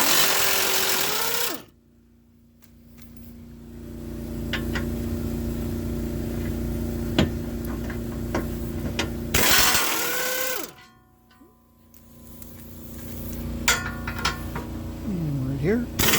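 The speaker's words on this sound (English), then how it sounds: "we'll use an 18mm on the impact, and we'll go ahead and zip those bolts off" Impact wrench with an 18mm socket rattling off skid plate bolts on a Jeep JK in two long bursts, separated by a brief pause with faint clicks, followed by a quieter stretch of handling noise.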